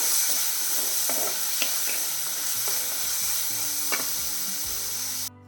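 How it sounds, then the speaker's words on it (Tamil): Tomatoes sautéing in a hot pan for a Kerala-style fish curry over medium flame, a continuous close sizzle with occasional clicks and stirring scrapes, ending abruptly. "இதில் வந്து தக்காளி சேர்த்துடலாம் அதையும் சேர்த்து நல்லா வதக்கிடலாம்"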